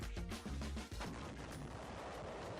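Demolition blast of Fort Drum, the concrete battleship fort, heard at a distance as a sharp booming detonation followed by rumbling, crackling aftershocks that continue steadily.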